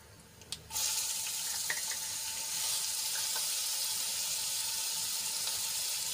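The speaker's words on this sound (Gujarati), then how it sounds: "મરચાં અને લસણની પેસ્ટને આપણે થોડીક સાંતળી લઈશું" A steady, hissing sizzle of chili-garlic paste frying in hot oil, starting with a sudden burst and continuing evenly at close range with no talking.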